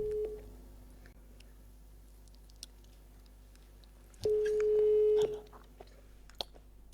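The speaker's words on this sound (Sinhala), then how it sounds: "මං කෝල් එකක් ගන්නවා ලංකාවේ මේ ප්‍රසිද්ධ මියුසික් ඩිරෙක්ටර් කෙනෙක්ට." A telephone ringback tone during an outgoing phone call: a short steady beep near the start and a longer one of about a second later, over a quiet background with faint ticks.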